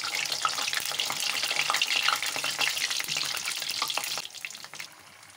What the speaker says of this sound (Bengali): এই যে আমি সমোচা ভাজতেছি